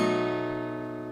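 A single dominant (five) chord sounds once with a rich, sustained harmonic tone that slowly fades, clear and alone.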